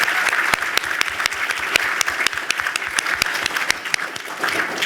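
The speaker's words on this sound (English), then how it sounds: "I think we just need to give a round of applause to Ann for just dropping all that data that" An audience breaks into applause at an educator pipeline event, a dense patter of many hands clapping steadily and fairly close, with no voices over it.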